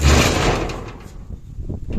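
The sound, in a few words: main door of a house opening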